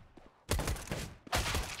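Two sharp bursts of rifle fire ring out in Counter-Strike on the Dust2 map during an ECS Mousesports vs NIP match, each a loud cluster of close shots followed by a decaying echo.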